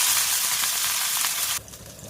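Curry leaves and onion dropped into hot oil with mustard seeds for tempering a green chilli hyacinth bean dal, a loud, dense, steady sizzle that abruptly drops to a softer frying hiss partway through.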